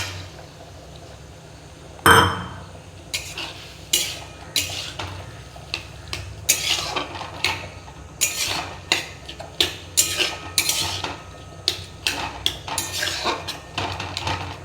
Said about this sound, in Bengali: আলুগুলো একটুখানি ম্যাশ করে নেব।